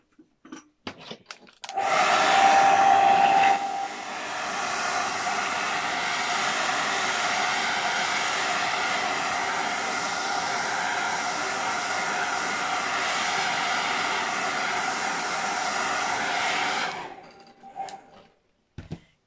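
Close by, a hair dryer drying a painting blows in a steady whoosh for about fifteen seconds, louder at first and then holding even before it switches off.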